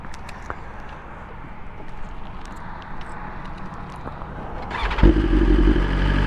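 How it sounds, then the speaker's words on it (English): Quiet idling hum with small clicks, then a BMW S1000RR motorcycle engine suddenly revs up loudly near the end, its exhaust opening into a deep, throaty roar. "And then when you rev, the exhaust kicks in."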